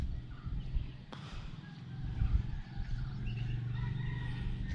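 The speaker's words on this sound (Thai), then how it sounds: "ฟังเสียงไก่ครับท่านผู้ชม" Chickens at a Hmong homestay high on Doi Pui mountain call in the early morning. Clucks and crowing sound from a moderate distance over a low outdoor background, with a longer drawn-out call toward the end.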